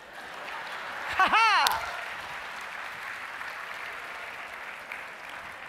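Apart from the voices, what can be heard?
audience applause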